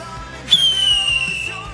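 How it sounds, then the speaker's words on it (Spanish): A whistling firework (silbador) set off at a family home gives a loud, piercing whistle that starts abruptly and slowly slides downward in pitch for over a second, heard alone without voices. "Yo quiero tirar silbadores también."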